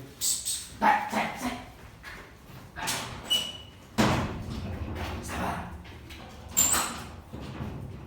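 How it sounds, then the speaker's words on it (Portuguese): Large dogs bark by a gate at a house in central-west Brazil, several loud bursts of barking spread across the moment, with a gate or door rattle mixed in. "minhas cachorrinhas quase saíram no portão ali"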